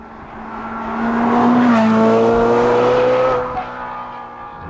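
A Ferrari 458 Speciale engine revs hard while driving, its tuneful wail climbing to a loud peak in the middle and then easing back, heard close with no talk over it.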